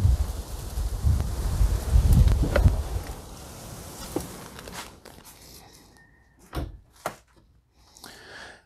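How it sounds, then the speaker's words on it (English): Strong outdoor wind buffets and rumbles loudly for the first few seconds, then eases to quieter gusts with scattered clicks and knocks. "The wind is too crazy here."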